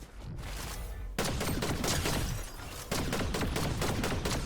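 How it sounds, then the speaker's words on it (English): Rapid hip-fire gunshots crackle from a weapon in the video game Fortnite, dense bursts of loud shots in quick succession with a short pause between volleys. "Told you the hip fire on this was good."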